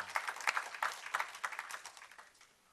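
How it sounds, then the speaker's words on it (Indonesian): A church congregation claps together, a fairly close, rhythmic patter of many hands that fades out toward the end. "Tepuk tangan buat Yesus kita."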